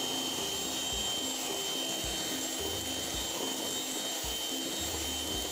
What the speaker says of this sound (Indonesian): Kita mixer sampai soft peak.